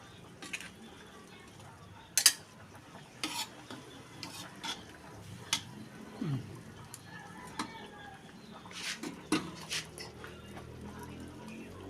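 A ladle scrapes and stirs through a chicken dish in a pot, giving scattered clinks and soft sizzling in short irregular strokes, with faint background voices.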